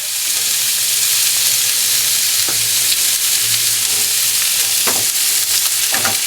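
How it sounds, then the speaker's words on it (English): Garlic and steak brown in a pan over a flame, a loud continuous sizzle and hiss with occasional scraping stirs close by and no talking. "Get our garlic mixed in there. We'll brown this all up."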